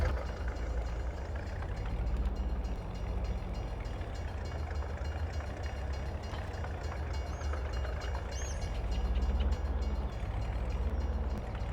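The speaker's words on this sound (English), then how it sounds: "send the train on its way" A freight train pulls away after being unloaded, a continuous low rumble of wagons rolling along the track at moderate distance, with faint squeals and clatter over it.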